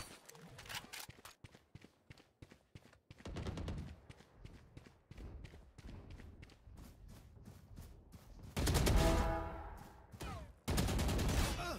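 Valorant competitive match gunfire: bursts of rapid shots and single cracks spread through the scene, with heavier louder volleys near the end, mixed with footsteps and a voice talking at times.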